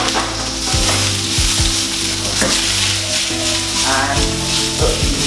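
Onions and garlic sizzle steadily in hot oil in a pan for a spice chicken curry, a loud, constant frying hiss broken by occasional stirring knocks and scrapes.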